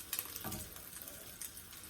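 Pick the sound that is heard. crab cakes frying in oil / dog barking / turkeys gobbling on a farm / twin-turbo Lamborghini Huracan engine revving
crab cakes frying in oil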